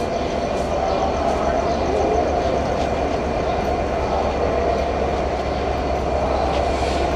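Loud, steady rumble of the Madhumati Express passenger train close by at Rajshahi station, with a constant mechanical roar and faint clattering throughout, and a voice faintly in the background.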